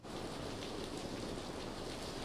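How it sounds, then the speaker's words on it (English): Steady rain pours down in Anderson County, South Carolina, during a storm with dangerous winds, a dense even hiss of drops heard alone, fairly faint and unbroken throughout. "As the rain continues to fall"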